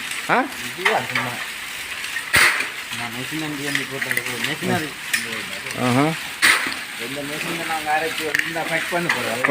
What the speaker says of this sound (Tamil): இங்கே ஒரு மோட்டர் ஒன்று இருக்குது இந்த மோட்டருக்கு மின் வழங்கப்பட்டிருக்குது